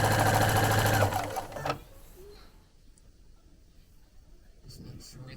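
A sewing machine stitches down the center of the tape on a quilt with a fast, steady whirring hum for about a second, then stops, leaving quiet room tone and a few soft handling noises.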